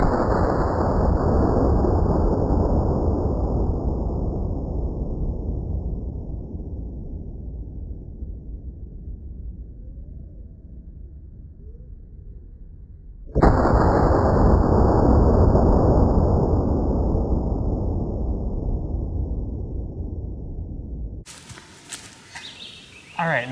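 Two loud 7.62x39 rifle shots fired from the prone position, about thirteen seconds apart. Each cracks sharply and then rolls off in a long, fading echo across open ground.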